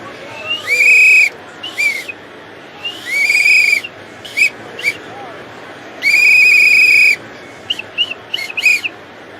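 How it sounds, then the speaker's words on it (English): A whistle is blown again and again, with long shrill blasts mixed with short sharp toots in an uneven rhythm, loud and close. "Gotta blow that whistle."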